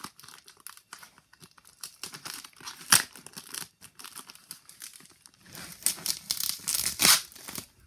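Sticky tape is peeled and torn off a mail package, giving repeated close crinkling rips and crackles. Two sharper tearing bursts stand out, then a busier run of peeling near the end. Nobody speaks.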